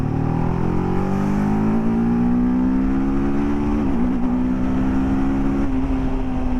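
A TVS RTR 310 motorcycle rides along with a loud, steady exhaust drone that rises gradually in pitch as it accelerates, dips briefly around a gear change, then holds, with continuous wind rush close to the rider.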